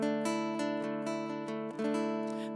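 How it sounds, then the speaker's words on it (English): A string instrument picked with a very thin pick, played as a run of bright plucked notes roughly every quarter second, each attack crisp with a sustained ringing tone, close and steady over a couple of seconds. "That's the sound you get from a very thin pick."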